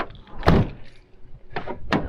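A van's sliding door closes with a heavy thud, then two more sharp mechanical clunks follow as the van is locked, loud and close. The setting is a parking area at a state forest trailhead.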